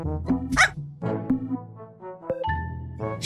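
A Shih Tzu barks and yips repeatedly at close range, a string of short high-pitched barks interspersed with whiny, squeaky vocalizations, loud and alone without speech.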